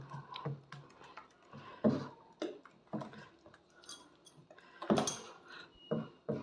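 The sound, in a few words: mixing idli batter by hand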